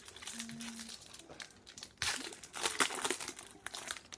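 A 1992 Pro Set football card pack crinkles and tears open indoors. The crumpling is soft, irregular and close, with a louder burst of crackling midway through.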